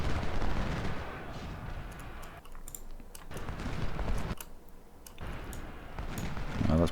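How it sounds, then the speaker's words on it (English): Musket volleys and artillery fire from a Civil War battle at Chickamauga in the strategy game Ultimate General Civil War, a crackle of scattered shots and low booms swelling and fading in waves. "exchange of fire going on"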